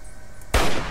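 A single loud gunshot blast sounds from the video game Fallout 3, booming abruptly after a half-second of steady game background and ringing out to the end.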